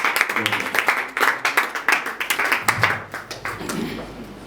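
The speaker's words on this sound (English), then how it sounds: "Please let's clap for him." A small group clapping at a crypto presentation, close and distinct individual claps in a loose, rapid rhythm that fades out near the end.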